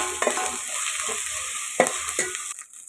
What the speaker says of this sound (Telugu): అల్లం వెల్లుల్లి పేస్ట్ కూడా ఫ్రై అయిపోయింది